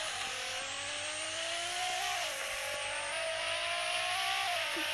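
Engine of a car in a Roblox driving game, revving loud and steady for the whole stretch, with the pitch climbing and dropping as the car speeds up and shifts, plus a faint tire squeal, and no talking over it.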